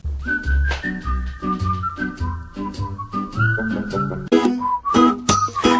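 A bright whistled melody rides over a strummed guitar and beat, the tune gliding between sustained notes in a pop-style arrangement.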